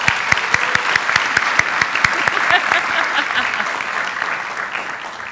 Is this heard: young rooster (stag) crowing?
no